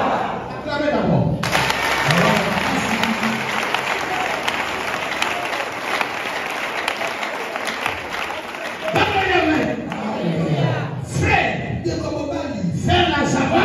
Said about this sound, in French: Acclamez d'abord.